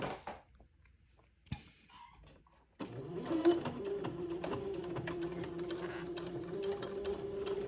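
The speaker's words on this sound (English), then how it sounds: "So using a straight stitch, I'm going to hem both ends of the poof." A domestic sewing machine runs a steady straight stitch along a baby bonnet hem. The whirring motor and needle tapping are fairly soft, preceded by a few quiet handling clicks and rustles.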